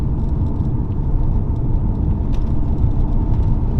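An Infiniti G35 car engine rumbles loud and close in a steady, dense low drone that holds for the whole stretch.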